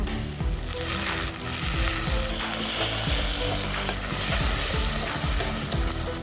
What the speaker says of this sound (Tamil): ஆனியனை போட்டு நல்லா வதக்கணும்.